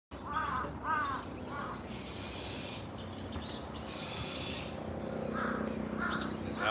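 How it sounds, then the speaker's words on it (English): A large crow on a Tokyo street near Shiba Park caws several times in short, rasping bursts over a steady wash of city background noise. "That's a big crow."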